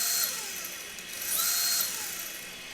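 Small brushless motor of an RC drift car revving with a Furitek Slidetech Pro ESC in turbo mode, a high whine that rises and falls over a few seconds, close and fairly faint, with no talking.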